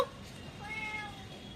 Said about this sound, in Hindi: अरे देखो बिल्ली आके बैठ गई रास्ते में।